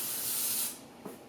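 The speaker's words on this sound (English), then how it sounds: "I'm going to follow some advice I was given and spray each one with a little bit of butter spray" Butter-flavored cooking spray hisses into glass egg bite jars for sous vide egg bites: one steady, close spray burst lasting under a second, followed by quiet and a faint tap.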